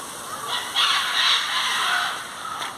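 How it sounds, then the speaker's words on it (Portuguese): Ducks quacking and honking in a loose cluster of calls, fairly close, with outdoor background noise and no talking. "Olha os patos."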